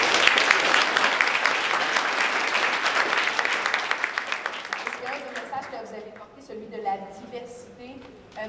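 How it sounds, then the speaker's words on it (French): Audience at a youth summit in Montreal applauds with dense, steady clapping for about five seconds, then the clapping fades out as a person starts speaking. "oui, vous pouvez l'applaudir, c'est bien correct."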